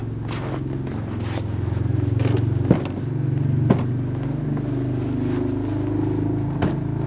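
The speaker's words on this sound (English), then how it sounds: "What you're hearing right now is my neighbor going with his four-wheeler." A four-wheeler ATV engine drones steadily nearby with a low, uneven rumble, punctuated by a few brief scrapes and knocks.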